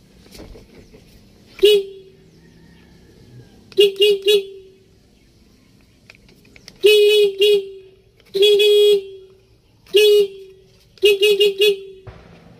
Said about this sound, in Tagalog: So ito na po yung sa horn ng manubila.